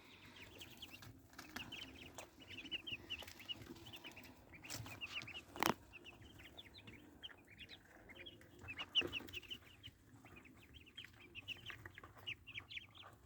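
White chickens about 30 days old cluck steadily in a pen, soft and fairly faint, with scattered sharper bird calls and occasional knocks over a low background hum.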